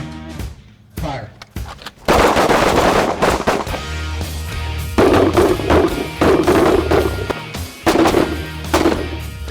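Pistol and M4 rifle fire at a Border Patrol shooting qualification in Laredo, Texas: sharp, loud reports in irregular bursts and rapid strings over several seconds, with outdoor range echo and some voices between shots.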